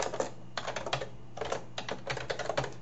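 Computer keyboard keys clatter in quick bursts of typing as Java code is entered, with short pauses between runs of keystrokes, close and fairly quiet with no talking.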